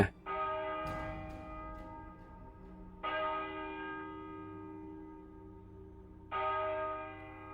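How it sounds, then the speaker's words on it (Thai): Three loud temple bell strikes, each ringing out with a long, slowly fading metallic hum before the next blow, several seconds apart. "เสียงระฆังเงงงาง ลั่นมาจากบริเวณวัด"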